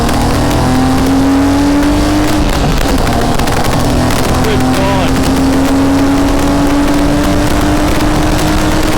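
A BMW E36 race car accelerates hard on a track, its engine roaring loud and close from inside the cabin with rising pitch through the gears and a brief shift dip, under a person talking.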